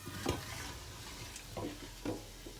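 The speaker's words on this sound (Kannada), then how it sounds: "ನಾನು ಎಣ್ಣೆ ಹಾಕಿ ಚಕ್ಕೆ ಮತ್ತು ಲವಂಗ ಸ್ವಲ್ಪ ಸ್ವಲ್ಪ ಹಾಕಿದ್ದೀನಿ ನೋಡಿ" Cinnamon and cloves frying in oil in a hot pot, a soft, steady sizzle with a few faint stirring scrapes, quiet and close, with no voices.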